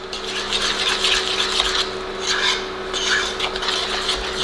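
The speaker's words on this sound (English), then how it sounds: "we're going to give that another mix" A thick cheese sauce loosened with half and half is stirred in a bowl, producing close, rhythmic scraping and rubbing strokes over a faint steady hum, with no talking.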